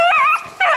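Hunting dogs bay while running a hare's trail in a swamp, two loud wavering howls close by with a brief dip between them.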